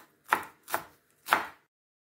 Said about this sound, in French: On va découper la coriandre finement,